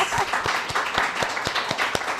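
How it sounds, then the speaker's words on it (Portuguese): A small podcast studio audience claps, a short burst of distinct, rhythmic handclaps from a few people, close and moderately loud. "Palmas, plateia. Palmas."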